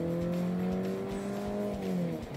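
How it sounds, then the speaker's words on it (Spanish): A 2021 Mercedes C-Class accelerates gently from first gear, selected with the steering-wheel paddles, its engine note rising smoothly and steadily, close and fairly loud with no talking. "voy a hacer una pequeña aceleración desde primera velocidad, en grano primera, desde las levas del volante."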